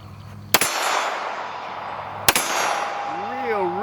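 Two CZ Shadow 2 competition pistol shots striking steel targets outdoors, each a sharp crack followed by a ringing metallic clang and a lingering echo, spaced almost two seconds apart.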